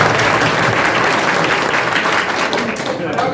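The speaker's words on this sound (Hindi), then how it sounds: "तालियां बजाएंगे।" A large crowd at a doctors' association gathering applauds loudly and steadily, dense continuous clapping with a murmur of voices beneath it.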